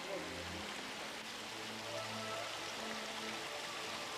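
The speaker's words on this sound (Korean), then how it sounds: "근처 뱀산에서 흘러나오는 이 개울의 물은 바로 온천수 그 자체이다" A hot spring stream fed from a nearby mountain, its 37-degree water flowing steadily in a broad, constant wash of running water with a faint low hum beneath.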